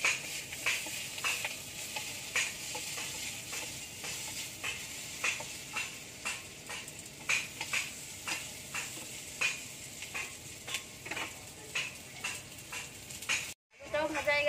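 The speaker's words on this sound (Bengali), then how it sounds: "এবার আলুটা ভেজে নিচ্ছি।" Potato pieces fry in oil in a pan with a constant sizzle, while a utensil scrapes and stirs in a steady rhythm of repeated strokes, and the sound cuts out briefly near the end.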